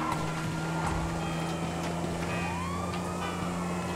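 Police sirens chasing the player in GTA V, faint wailing sweeps rising and falling over a steady low engine hum, somewhat distant and under the vehicle drone, with no talking.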